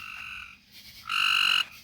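A frog calls inside a greenhouse made of cattle panels, two loud, close, buzzing trills separated by a brief pause, the second one longer and stronger, with no speech.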